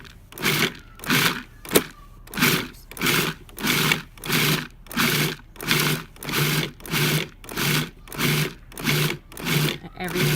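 Food processor pulsing a raw walnut and mushroom mixture, loud repeated bursts of whirring about every 0.7 seconds, close by and alone.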